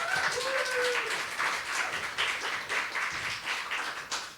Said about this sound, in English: here we have a big round of applause for Malwina Masternak